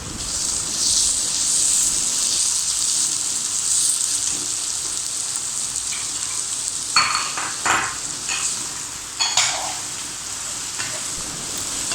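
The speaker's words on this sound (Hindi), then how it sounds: "अब इसमें मैं 1 अदद टमाटर ऐड करूँगी।" Tomato and onion sizzle and fry in a pan for chicken spaghetti, a constant bright hiss broken by a few louder stirring scrapes and crackles near the end.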